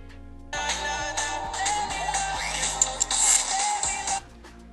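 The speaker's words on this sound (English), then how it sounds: "I'm going to line the sound effect up with the shockwave" A shockwave sound effect added in a mobile video editor, Cute Cut, plays as a loud, bright whooshing, crackling blast with low thumps and rumble, lasting about four seconds before cutting off.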